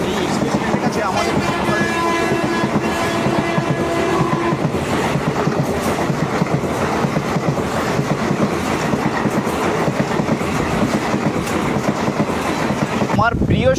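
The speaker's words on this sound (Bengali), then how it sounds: "আজকে আমি আপনাদেরকে একটা ট্রেন জার্নি দেখাবো, অবশ্যই দীঘা থেকে হাওড়া" A local train running from Digha to Howrah rumbles steadily throughout, its car rattle and rhythmic wheel clatter loud and continuous, with a brief sharp burst near the very end.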